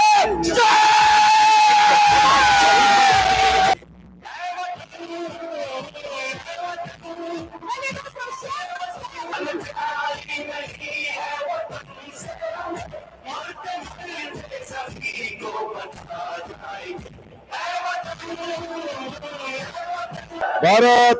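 A large audience at an anniversary celebration in Abu Dhabi cheers, yells and claps continuously, loud at first, then a dense, slightly softer crowd roar with shouting voices.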